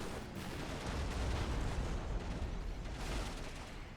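A creeping artillery barrage from a Priest self-propelled gun in a war video game rumbles in a dense, continuous wash of overlapping distant booms and blasts, steady and loud for several seconds with no talk.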